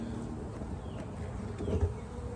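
Honey bees buzzing inside a crowded hive during a first spring inspection, a soft continuous drone with faint wingbeat flickers and a brief louder swell near the end.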